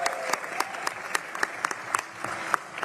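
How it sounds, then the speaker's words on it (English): Applause from an audience at a government press event opening two youth clinics, a steady patter of clapping with a few sharper claps, while faint voices murmur underneath. "let's have one more round of applause for the governor, Mayor Sharon and Sayona"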